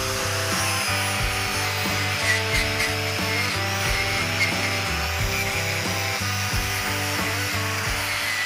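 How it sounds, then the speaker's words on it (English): A wire wheel on a power tool grinding metal, a continuous droning whir with rhythmic scraping bursts as the wheel bites the workpiece, loud and close. "I find the wire wheel works a lot better than the flap discs"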